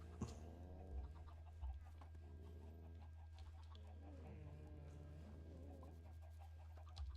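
Soft clucking from blocky game chickens on a Minecraft-style server drifts in and out over a steady low hum, faint and intermittent throughout.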